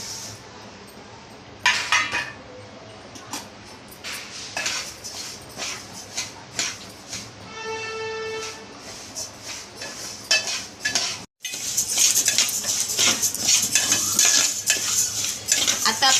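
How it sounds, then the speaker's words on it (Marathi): Two kinds of dal are dry-roasted together in a pan and stirred with a metal spoon, producing repeated scraping and clinking strokes, with brief rattles of lentils and a steady close stirring texture. "आणि आता ह्या 2 डाळी आपण अशा एकत्र भाजणार आहोत।"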